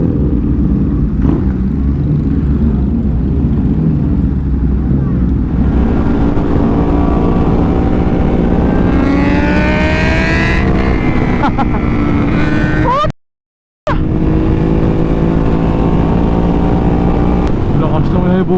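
A Suzuki Hayabusa motorcycle rides at speed, its engine a loud continuous roar with rising revs, mixed with wind rush and brief talk, cutting out abruptly for a moment before resuming.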